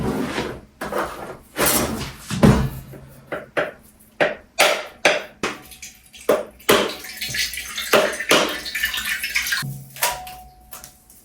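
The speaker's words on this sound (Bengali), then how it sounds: "নারকেলটা ফাটিয়ে ফেলেছি" Repeated sharp cracks and knocks as a whole coconut is struck to split it open in a home kitchen, irregular blows close to the mic with a wet splash near the end.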